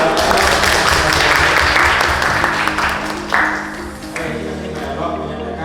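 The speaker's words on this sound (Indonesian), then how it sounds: "Boleh minta tepuk tangannya untuk" A classroom audience at a school teaching session claps loudly and continuously for a few seconds over a low steady hum, then the clapping thins and trails off.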